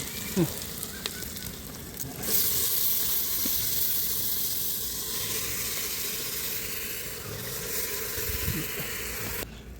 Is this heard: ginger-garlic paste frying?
yes